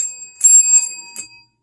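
A dog strikes a small bell during a trick-training session, giving three bright metallic rings with lingering tone, close and loud, with no talking over them.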